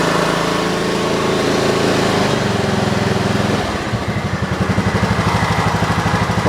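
A John Deere 225 zero-turn mower runs on its newly fitted engine with the throttle cable freshly set. The engine holds a steady, loud idle close by, then the pitch drops and it settles into a lower, pulsing chug.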